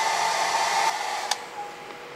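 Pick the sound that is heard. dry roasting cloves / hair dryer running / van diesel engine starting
hair dryer running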